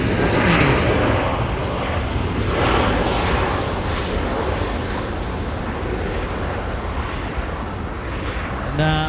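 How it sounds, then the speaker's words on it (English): An Airbus A320 jet from Christchurch lands at Auckland Airport, a loud, sustained broadband engine roar close by that holds steady throughout with no voices. "Another Christchurch A320 just landing here."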